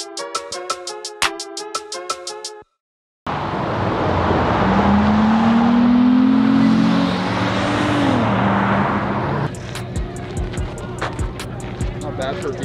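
A modified Mopar V6 engine revs hard, rising into a loud, sustained roar before settling back, with sharp percussive clicks and people talking nearby before and after the rev.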